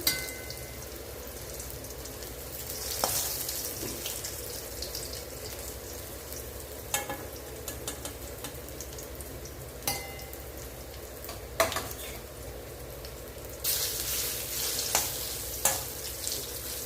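Sliced snake gourd chips deep-frying in oil, a continuous fine crackling sizzle with scattered sharper pops and occasional stirring clinks, the hiss swelling louder near the end, with no talk.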